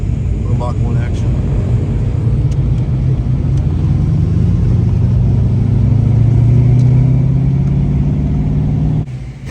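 At a car cruise-in, a Ford Mustang Mach 1 engine rumbles loudly and its pitch climbs steadily through a long rev before cutting off near the end, with people chatting over it.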